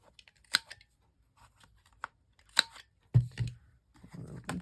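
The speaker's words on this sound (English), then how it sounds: "Trim these edges again." Scissors trimming the edges of paper, heard as a few sharp isolated snips spaced apart in a quiet room, followed by low soft handling noises near the end.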